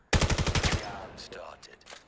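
Rapid burst of about seven shots from the VR shooter game VAIL, loud and close in a tight rhythm, followed by fainter game effects and scattered distant sounds.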